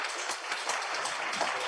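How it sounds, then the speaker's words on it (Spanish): Applause from an audience honouring an ambassador at a ceremony, a steady dense wash of clapping hands that stays even and fairly near for the whole stretch, with no voices over it. "Vamos a dar un aplauso al embajador."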